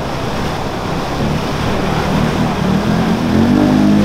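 An off-road truck in two-wheel drive crawls into a mud hole, its engine rumbling steadily and building toward the end under broad wind-like noise, with no talk.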